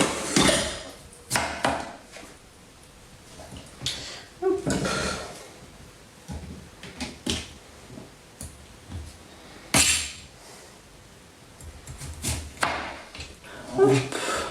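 A knife chops food on a home kitchen counter in sharp, irregular knocks and clinks, with someone talking between the cuts.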